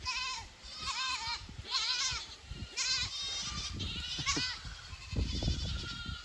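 A herd of goats bleats repeatedly, several wavering, overlapping calls from nearby animals over a steady background of shuffling and outdoor noise.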